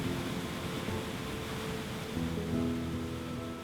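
Steady roar of the waterfall and bouldered rapids at Wren Falls on the Tyler Forks River, a broad continuous rush of water heard close by from a riverside campsite, with no voices.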